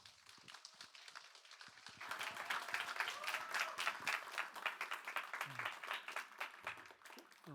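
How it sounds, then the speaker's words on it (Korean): An audience at a Korean university culture-day event claps for a professor taking the stage. Scattered claps at first swell into dense, steady applause, moderately close and faint overall. "여러분 뜨거운 박수 부탁드립니다."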